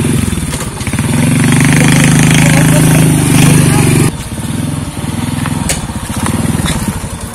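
Loud motorcycle engine running close by, with a steady, rough mechanical drone that shifts abruptly partway through and carries on with a pulsing, uneven tone.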